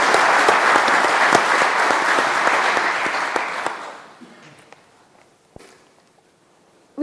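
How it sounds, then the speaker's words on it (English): Conference audience applauding a paralympian: full, dense clapping holds steady for about four seconds, then fades quickly to a quiet room with a few stray sounds. "Can we get a round of applause?"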